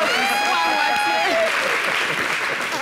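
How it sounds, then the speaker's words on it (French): Studio audience applause for a singer on a local TV show, rising as the last sustained sung notes fade out, then a steady, dense patter of clapping for the remaining seconds. "Merci de l'applaudir."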